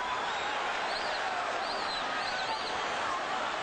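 A boxing arena crowd at a lightweight bout between Edwin Rosario and Hector Camacho, a steady roar of cheering and applause washing through the hall, fairly distant and continuous, with faint whistles rising above it.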